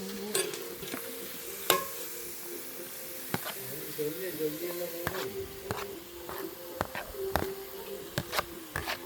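Ginger and garlic sautéing in a pan at home, a steady sizzle broken by sharp scraping clicks as a spoon stirs, with a voice speaking over the cooking.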